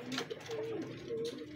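Pigeons kept by a Filipino breeder, some suffering from one-eye cold, coo in a few soft, low, hooting phrases at close range against quiet background noise.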